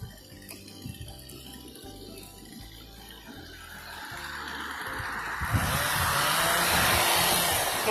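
A chainsaw cutting up trees buzzes in the distance with uneven, pulsing revs, then a loud hissing wash of noise swells in and dominates toward the end.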